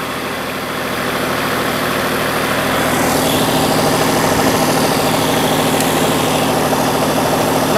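A Kubota V1803 diesel engine drives a 24.2 kW three-phase generator, running steadily and loud at close range with a constant low drone that swells slightly after the first few seconds.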